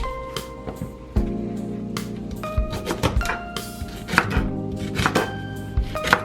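A knife chops plantain on a board in a home kitchen, cut small for Haitian plantain porridge. The blade falls in a steady run of sharp, close knocks with brief pauses between bursts.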